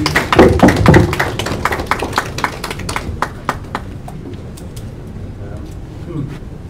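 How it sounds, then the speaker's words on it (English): An audience at a meeting with labour organizations gives a short round of applause, a burst of close hand claps that quickly thins to a few scattered, sharp claps and then fades. "With a round of applause, please."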